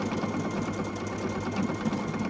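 A Husqvarna Viking sewing machine runs an Omni Motion appliqué stitch with a wide presser foot, giving a steady, fast mechanical whir with quick rhythmic needle ticks, close and unbroken.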